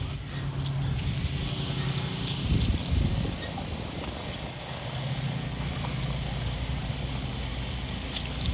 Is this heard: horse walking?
yes